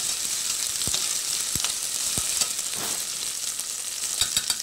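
Red onions frying in a pan for rajma, a red kidney bean curry, give a steady close sizzle with a few soft clicks of stirring throughout, and no talking.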